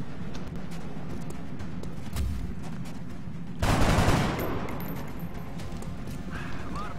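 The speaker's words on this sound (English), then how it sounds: "I'm gonna shoot and then reload" A single gunshot in XCOM: Long War, a sharp broadband burst standing out partway through over a steady bed of game ambience, with a brief rumbling tail afterward.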